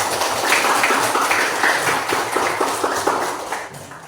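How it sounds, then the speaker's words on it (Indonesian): A classroom of students clapping hands together on cue, a steady patter of fairly even claps that runs throughout, with a faint voice now and then. "Oke, tepuk tangan."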